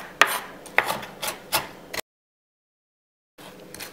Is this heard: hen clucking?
no